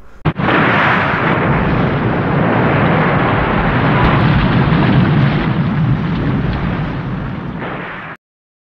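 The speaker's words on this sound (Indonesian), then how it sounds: "Dia memilih untuk meledakkan bendungan yang dia bangun selama 10 tahun" A dam blown up with explosives in a film roars as a loud, sustained blast rumble for about eight seconds before cutting off abruptly.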